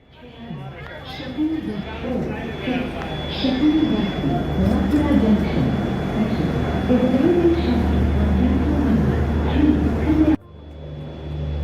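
Low rumble of a train rolling out of New Delhi railway station, steady and building, with voices chattering nearby over the mechanical hum until it cuts out abruptly.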